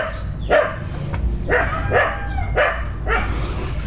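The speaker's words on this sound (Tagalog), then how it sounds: "Maingay yung aso." A dog barks several times in quick, irregular succession, fairly close, at an airgun shooting range, with a low rumbling background beneath.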